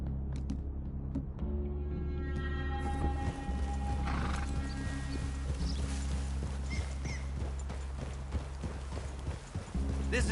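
Horse hooves clip-clop steadily in Red Dead Redemption 2 as riders move through a forest clearing toward a cabin, with a horse neighing and snorting near the start and low voices murmuring over the rhythmic footfalls.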